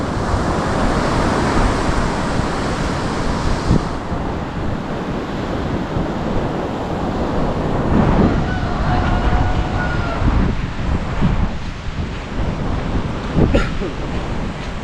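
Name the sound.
sea waves at the shore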